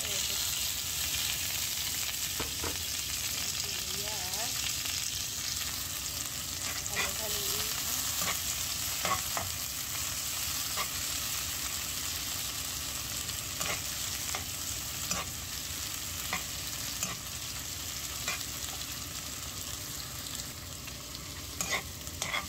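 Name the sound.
stir-frying garlic and onion in a pan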